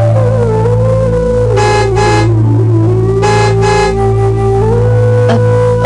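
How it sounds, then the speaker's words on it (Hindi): A car horn honks in a few short bursts over a steady, loud engine rumble close by, with no voices. "हॉर्न की आवाज आ रही है"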